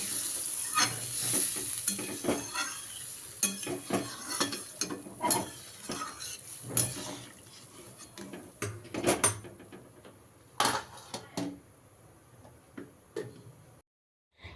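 Water poured into a pan of young pumpkin cooking, bursts of hissing sizzle and clattering stirring taps in uneven clusters, close and fairly loud, fading out to near silence at the very end.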